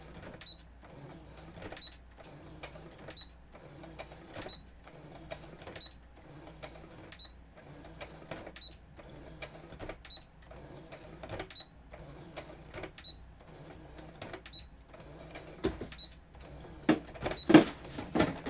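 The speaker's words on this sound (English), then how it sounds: "So whenever you're doing something super, super thick, it doesn't hurt to sew it a few times." Sewing machine stitching through thick layers of T-shirt quilt, a quiet, steady run of rapid mechanical clicks with short regular bursts and pauses, getting louder and more irregular toward the end.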